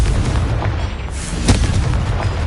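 A Confringo spell explodes in Hogwarts Legacy on PS5, giving a loud, deep boom with a rumbling tail and a sharper burst near the middle, with no talking.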